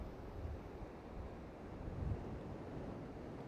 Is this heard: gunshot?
no